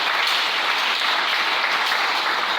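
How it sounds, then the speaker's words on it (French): A congregation at a French-speaking church service on family influences breaks into loud, sustained applause, dense and steady clapping filling the whole span with no voices over it. "Est-ce qu'on peut acclamer le Seigneur?"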